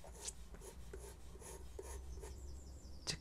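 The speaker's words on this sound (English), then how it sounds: "You can hear it on the paper, but it's creating some very, very faint, sharper lines." A pencil tip scratches faint, sharp lines onto paper during a portrait drawing, a soft rhythmic series of short dry strokes repeating about every half second, close and quiet, with no talking.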